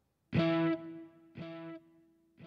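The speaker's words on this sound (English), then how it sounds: "Every time it renews itself, that is delay." A sustained tone that cuts off and then returns in fading repeats, each a quieter copy of the first, like an echoing delay effect.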